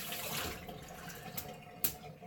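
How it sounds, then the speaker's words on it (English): Hot water runs from a bathroom tap over a synthetic shaving brush, a soft close splashing hiss with a few brief sharper spatters, no talking. "I'm just going to take my brush and run it under some hot water"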